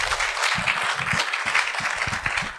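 Steady applause fills the hall for Hamid Khan at an international legal conference, many hands clapping together at an even level with no voices above it.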